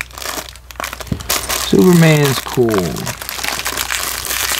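A plastic bag holding a LEGO Batman minifigure is crinkled and torn open close by, with rustling bursts while someone talks over it.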